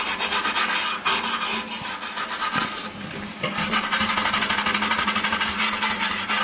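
A gasket scraper grinds back and forth across the lip of a C4 Corvette transmission pan, clearing off old gasket residue in close, rapid raspy strokes with one brief pause partway through.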